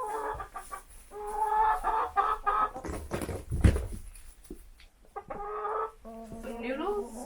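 Backyard hens cluck and squawk close by in irregular bursts while people talk over them and a flat voice chatters to the birds.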